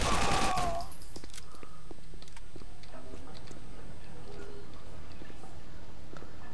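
Rapid gunfire rattles in a shooter video game, a loud burst up front followed by scattered shots and ticking impacts with the speaker's voice over them.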